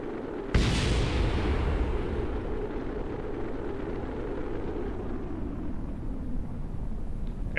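A loud boom bursts out near the start, then a heavy rumbling roar carries on steadily to the end, like cannon fire in Kerbal Space Program.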